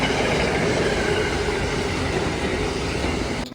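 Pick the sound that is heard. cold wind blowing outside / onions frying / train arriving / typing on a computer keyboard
train arriving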